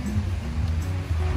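Ocean surf rolls onto a Mexican beach with seaweed near the water's edge, a steady low wash of breaking waves that swells and recedes throughout, close and fairly loud with no clear speech.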